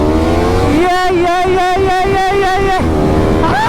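A vehicle engine revs hard during a drag race, climbing in pitch in a loud sustained pulsing whine close by, then dropping off, with a person speaking in the clip.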